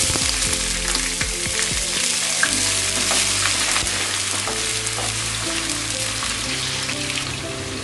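A cup of chopped onion hissing loudly in ghee and rice bran oil, a dense steady sizzle like heavy rain, with spoon scrapes and stirring knocks near the start, close and continuous with no talking.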